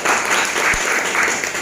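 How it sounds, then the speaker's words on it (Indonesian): An audience at a business opportunity presentation gives a short, dense burst of clapping that fills the whole moment at close, even loudness. "Tepuk tangan buat beliau"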